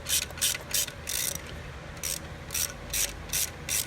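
Ratchet wrench clicking in quick bursts as it loosens the fuel injector hold-down bolt on a BMW E9X engine, the pawl rattling close and sharp with short pauses between strokes.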